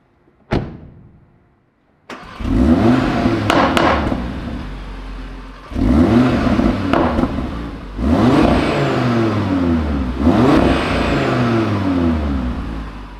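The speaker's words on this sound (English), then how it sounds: "So why don't we start by listening to the engine?" An Audi RS3 Competition Limited five-cylinder engine cranks and fires with a loud bark, settles briefly, then is revved hard four times in a row, each rise and fall loud and close with a deep, throaty tone.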